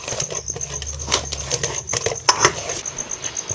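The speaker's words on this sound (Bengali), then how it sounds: "এবার চাপাটা তুলে নেবো, নিয়ে আবার ভালো করে মাখিয়ে নেব" A pan lid lifted and chicken kosha stirred in a pan, with light clinks of metal on metal, a utensil scraping and a soft sizzle running throughout, close and clear.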